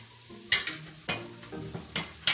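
Tarragon, salt, pepper and chopped celery stirred in a pan produce repeated sharp scrapes and clacks of a utensil on the pan over a light sizzle, close and fairly loud, about six strokes in quick succession.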